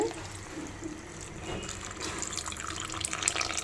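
Tamarind water poured into a simmering fish curry of yendi fish and broad beans gives a steady, moderately close liquid splash and trickle, continuous for a few seconds with no talking.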